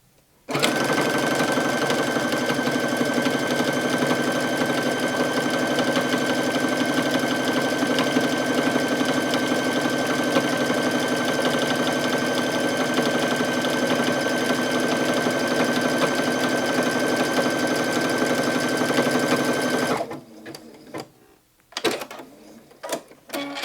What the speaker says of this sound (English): you want to be careful that you switch to a stretch stitch or use your serger